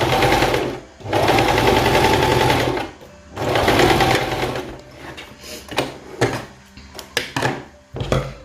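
A sewing machine stitches a seam on a jumpsuit in two long, close, steady whirring runs. Shorter stop-start bursts and light knocks follow.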